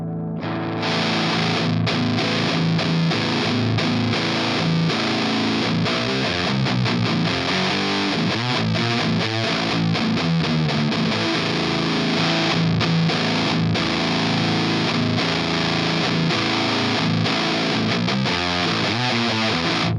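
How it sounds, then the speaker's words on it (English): Electric guitar with EMG pickups runs through a classic Rat distortion pedal into a vintage amp, playing a dense, saturated metal riff that is loud and sustained for about twenty seconds with no talking. "let's add the first distortion. This is the classic Rat."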